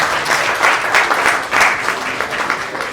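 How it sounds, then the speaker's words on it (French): Loud, sustained applause from an audience gathered at an outdoor village ceremony, dense clapping rising and falling in waves throughout. "On les acclame très fort."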